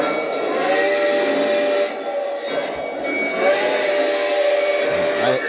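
A Lionel LionChief Plus 2.0 model steam locomotive gives off continuous electronic sound effects, steady tonal chuffing and whistle-like tones at moderate loudness, running without a break across the clip.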